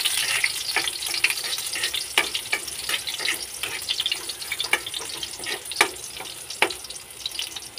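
Garlic fries in hot oil in a pan on an automatic electric cooker, a constant sizzle broken by frequent sharp crackles and pops, close by, with no speech.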